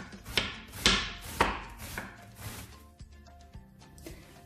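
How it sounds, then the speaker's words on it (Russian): A knife slicing onion into thin half-rings on a cutting board, several sharp chopping knocks in an irregular rhythm, loud at first and then softer light cuts, close and with no talking. "Лук необходимо нам нарезать тонкими полукольцами."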